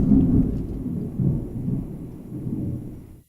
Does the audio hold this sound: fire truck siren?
no